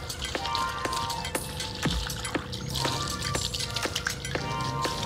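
Strong jets of water splash across a terrace floor as it is rinsed down, a steady rushing wash with faint clinks and drips scattered through it.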